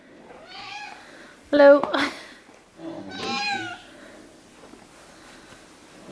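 A house cat meows twice at close range, with quiet rustling between the calls and a person briefly speaking.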